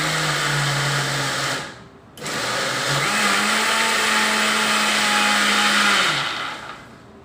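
A kitchen mixer grinder whirs loudly while blending herbal ingredients with Bermuda grass, cutting out briefly before restarting with a steady motor drone, then winding down at the end.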